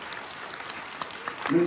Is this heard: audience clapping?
yes